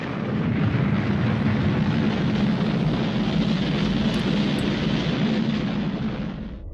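A rocket blasting off gives a sustained, loud, broad roar that swells in within the first half second, holds steady and slowly fades near the end; no voices.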